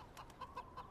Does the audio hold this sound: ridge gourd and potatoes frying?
no